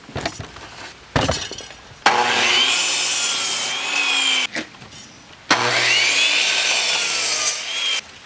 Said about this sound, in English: cut the ends at 45° angles so they meet up nicely